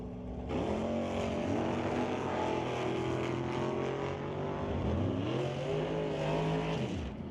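Drag race cars at Mission Raceway Park roar loudly and continuously, two engines revving and shifting with rising and falling pitch, close and dominant throughout.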